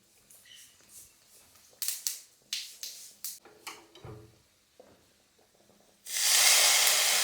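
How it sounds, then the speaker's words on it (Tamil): Vadagam is tempered in hot oil for a greens kuzhambu, a series of short crackling spits and pops followed by a loud sustained hissing sizzle, close by. "நம்மளும் வடகத்தையும் தாளிச்சிடலாம்"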